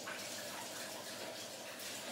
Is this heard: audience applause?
no